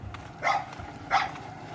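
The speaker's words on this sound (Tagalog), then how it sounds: "Where's the other dog?" Two distinct dog barks, spaced about half a second apart, moderately near over faint background noise.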